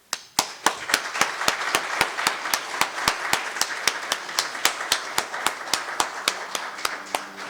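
Mourners at a funeral for David Wayne Smith clap in slow unison, a steady rhythm of sharp, evenly spaced claps about four per second that continues for several seconds, with a soft murmur behind it.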